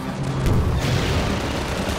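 Heavy rocket explosion in Half-Life 2, a loud close boom with a rumbling, crackling tail that fills the two seconds, with no talking.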